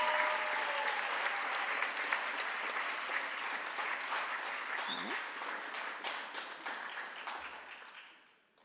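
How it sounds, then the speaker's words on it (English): An audience applauds the Expo winners at a college honors awards and induction ceremony. The applause is full and sustained and fades out near the end, with faint voices underneath. "let's give a big round of applause to all of our Expo winners"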